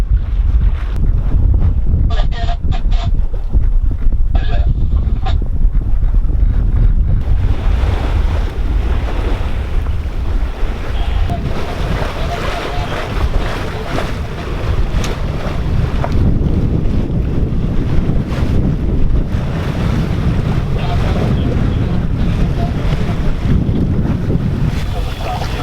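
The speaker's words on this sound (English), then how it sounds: "about time I finally got some wind" Wind roars across the microphone as waves wash against the hull of a Dana 24 sailboat under sail at about five knots, a steady loud rush with no voices.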